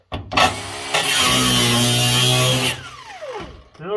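Power tool fitted with a new cutoff disc cutting metal on a 1971 Satellite, a loud sustained high whine for about two seconds after short bursts, then spinning down with a falling pitch.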